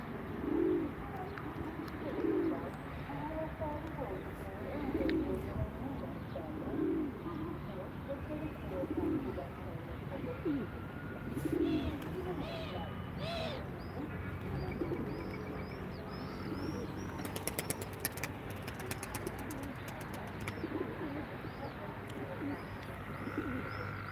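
Ankara tumbler pigeons coo in a steady series of soft, low, repeated calls, with faint chirps from other birds and a bustling background of distant voices and clatter throughout.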